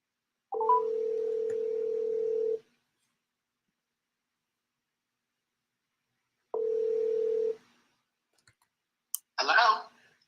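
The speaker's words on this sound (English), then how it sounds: "And I'm calling you on your phone." Telephone call being placed: two steady ringing tones of about two seconds each, separated by a silent gap. A brief click and a short burst of sound follow at the end.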